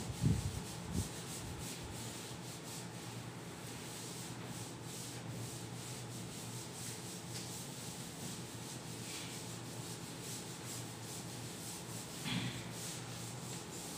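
A classroom board being wiped clean of writing, a steady soft rubbing and scraping that runs continuously at low volume with a few brief louder strokes, no voices.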